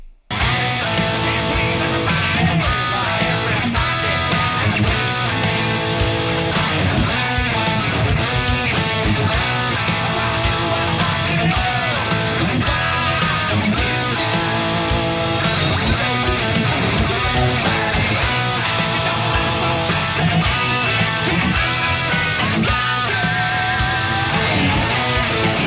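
Electric guitar drives through the second verse of a song, a tight funk-rock rhythm of choppy, syncopated chords and muted hits with full band backing, loud and unbroken for the whole stretch.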